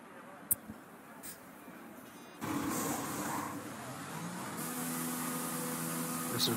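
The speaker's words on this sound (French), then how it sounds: "on voit les premières voitures qui vont sortir des stands" In a Bahrain Grand Prix racing video game, cars pull out of the pit lane. A few quiet clicks come first, then faint engine drones swell in and hold, layered and rising in pitch.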